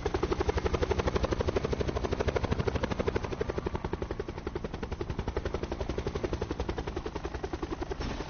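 A helicopter flying in the video game Call of Duty Black Ops 4 Blackout mode, loud, fast rhythmic rotor thumping that stays close and continuous throughout.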